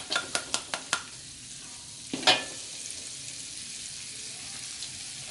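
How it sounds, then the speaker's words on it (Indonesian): Aromatics being stirred in a hot pan for crispy tofu with salted egg sauce, with a few sharp utensil clicks at the start, one louder scrape, then a quiet steady sizzle. "ini kita tumis sampai harum"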